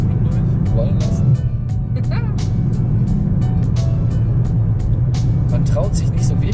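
A car cruising on the Autobahn during a first driving lesson, its engine and road noise forming a steady low rumble throughout, with people talking over it inside the cabin.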